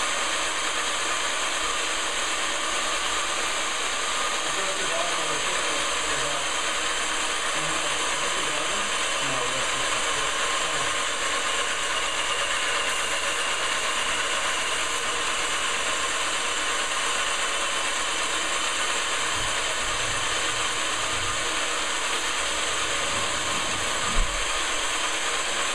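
A sprayer applies Omega Product air barrier in a steady, continuous hiss of pressurized spray that holds at an even level throughout, with a faint mechanical clatter underneath.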